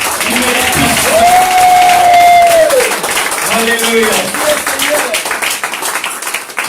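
A church congregation applauds and cheers for Jesus in a continuous wash of clapping and crowd noise, while a pastor's voice calls out loudly over it.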